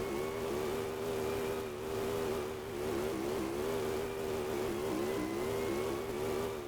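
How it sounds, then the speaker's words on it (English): A car drifting in the game My Garage, a steady revving engine drone that rises and dips in waves, held at high revs throughout with no talk. "Drifting!"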